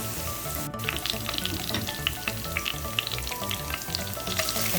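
Garlic sautéing in oil for spaghetti aglio olio, a dense steady crackling sizzle with small pops throughout, close and even, no one speaking.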